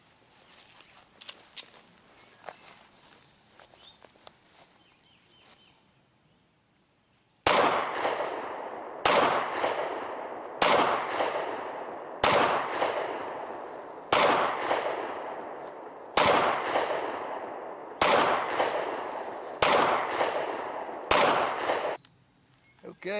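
Nine sharp, loud gunshots from a SIG P365 NRA Edition pistol being test-fired, spaced about a second or so apart after a quieter stretch of faint handling noises.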